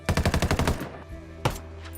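A firearm in the video game Ghost Recon Wildlands fires a tight automatic burst of about eight loud, evenly spaced shots. One more sharp report follows after a brief lull, with a ringing tail.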